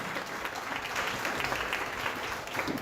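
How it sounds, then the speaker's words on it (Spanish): Church congregation applauds during a sermon, a continuous wash of many hands clapping at moderate distance, steady and unbroken for a few seconds. "¿Por qué no le dan un fuerte aplauso al Señor?"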